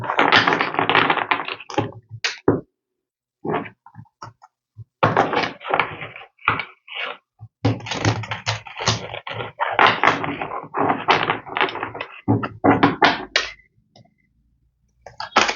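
Oracle cards are shuffled for a reading, making repeated bursts of crisp riffling and tapping broken by short quiet gaps.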